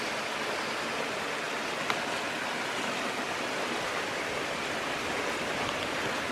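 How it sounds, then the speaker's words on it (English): Steady broadband rush of water spilling down a small upper cascade in Bankhead National Forest, Alabama, in icy winter conditions, a continuous even wash heard alone with no talking. "So here's an upper cascade."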